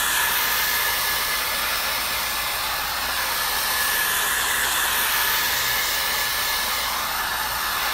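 A dryer blows a constant, loud hiss over freshly glazed paint on a marble-effect finish, running unbroken from start to end with no voices.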